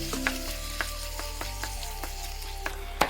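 Chicken stirred with masala in a frying pan for a Malayali kheema biryani, with a low sizzle under clicks and scrapes of a spoon against the pan at an uneven rhythm, close and fairly quiet, no talk.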